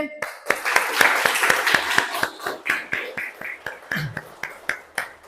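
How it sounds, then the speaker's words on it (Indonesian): A school class, 7D, claps in a loose rhythmic burst of distinct hand claps, fairly close and irregular, slowing toward the end. "Tepuk tangan untuk kelas 7D."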